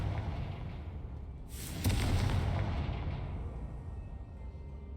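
In the video game Hogwarts Legacy, the Confringo fire spell goes off as a sudden loud blast that bursts with noise and then rumbles and fades over a couple of seconds, with no voices.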